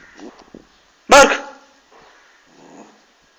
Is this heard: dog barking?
yes